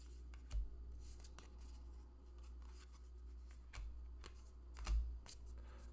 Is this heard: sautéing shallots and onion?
no